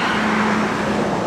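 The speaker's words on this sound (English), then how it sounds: "This is obviously a main road with lots of traffic" Busy main road traffic, a constant loud wash of car and vehicle noise with a low engine hum running steadily throughout, no talking.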